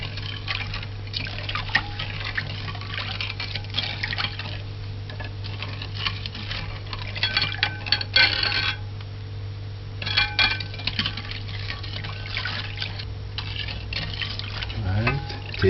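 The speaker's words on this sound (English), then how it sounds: "Add the sugar and stirring." Sugar stirred into a homemade carrot and cucumber drink, producing continuous close clinking and liquid swirling with short pauses, over a steady background hum.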